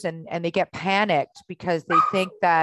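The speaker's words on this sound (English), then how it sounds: "sorry for the barking in the background." Dog barking in the background of an open Q&A session call, yips and barks mixed under continuous close speech from a speaker talking about sales leads.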